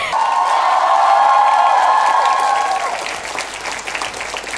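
An audience claps and cheers after a contestant's cải lương singing performance on a stage show. The applause is loud and sustained, with a long held tone and some whoops in the crowd. The noise eases slightly toward the end.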